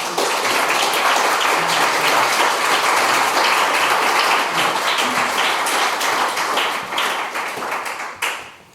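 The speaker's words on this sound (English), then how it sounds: "join me in welcoming Antony Penrose with a very warm round of applause" Warm audience applause at the Hellenic Centre welcoming a speaker, dense steady clapping from a full room that holds loud for about seven seconds before thinning out.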